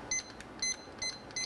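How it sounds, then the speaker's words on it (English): A kitchen timer beeps in short, faint electronic chirps, four quick beeps at roughly even spacing as buttons are pressed to set it. "We're going to set our timer for"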